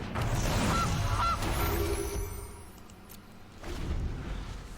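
A cartoonish goose-honk sound effect from the MTG Arena card game plays when a Goose card is cast. Two short honks come close together near the start over game noise, followed by a softer burst and a low rumble.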